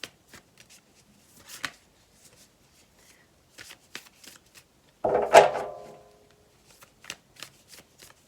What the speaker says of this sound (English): My hands are a little shaky today, so just bear with me as I shuffle.